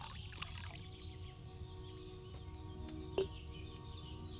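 Wine poured from a pitcher into a cauldron in Kingdom Come Deliverance, a faint liquid trickle with a few soft chirping bird calls in a quiet room and a small clink partway through.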